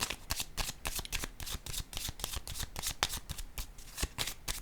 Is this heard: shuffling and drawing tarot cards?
yes